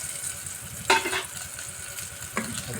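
Onion and vegetables sauté in a hot pan with a steady close sizzle, broken by two scraping stirs of a utensil against the pan, with no talking.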